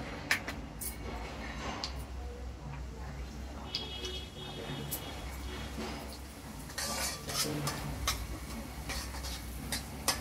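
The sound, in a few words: stirring and roasting semolina in ghee in a pan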